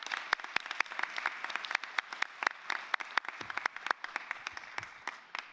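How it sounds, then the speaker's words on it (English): An audience at a panel event on future generations claps in moderate, scattered applause that carries on evenly at middle distance. "give everybody a big round of applause"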